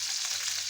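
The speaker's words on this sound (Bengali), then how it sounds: "আমি হালকা ভাজবো, মাছ বেশি কড়া ভাজা দিব না।" Fish frying lightly in a pan gives a brief, steady, bright sizzle, close and even, with no voices.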